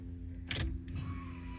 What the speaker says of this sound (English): I hear our fuel pump.